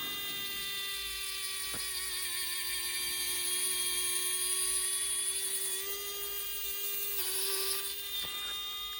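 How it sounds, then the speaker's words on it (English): Small hand drill boring into a Warhammer 40k model base, a steady high-pitched whine with a slight wavering pitch and a few brief dips, close and fairly quiet throughout. "it is still basically a drill, so be sensible"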